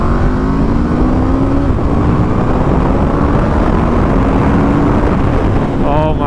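A 2021 Aprilia RSV4 1100 motorcycle engine drones loudly and steadily while riding, its pitch slowly climbing and shifting through gears, mixed with constant wind rush and a brief higher whine near the end.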